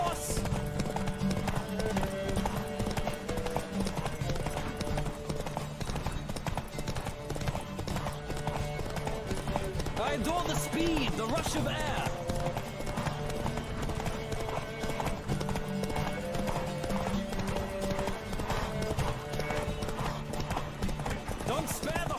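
Galloping horse hooves pound in a steady rapid rhythm throughout a horse race in The Witcher 3, with a horse's whinny, music and characters shouting and talking over the hoofbeats.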